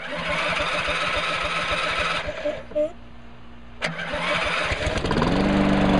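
A 2010 Lawn-Boy 10642C push mower is started on old gas after sitting a while: a few pulls and sputters, a brief pause, then the engine catches and runs loud and steady at close range, with a short spoken remark.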